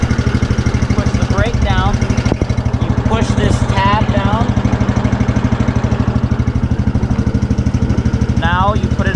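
Cub Cadet 128 lawn tractor engine running at a steady idle, a close, loud rhythmic chugging throughout, while someone talks over it at intervals.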